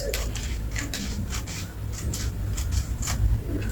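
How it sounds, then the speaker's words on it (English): Scissors or a blade trimming fabric along the front neckline of a halter dress, soft rubbing and snipping strokes in an uneven rhythm, close and quiet with no speech. "I will trim out the neckline for the front."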